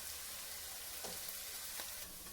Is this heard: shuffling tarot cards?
no